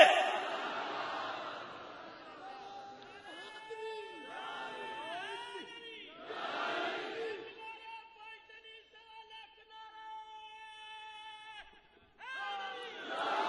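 Crowd at a Shia religious sermon (bayan) chanting slogans in loud bursts, with sustained tonal voices between chants and a final surge of chanting near the end.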